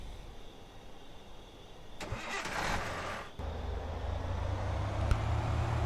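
A car engine starts in the video game Thief Simulator on Xbox: a loud cranking burst lasting about a second, then a steady low idle rumble that carries on to the end, with no talking.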